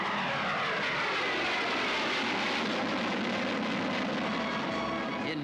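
Supersonic fighter jets and heavy bombers fly over Tushino Airfield at an air show. A loud, continuous engine roar fills the air, sweeping overhead with a shifting pitch.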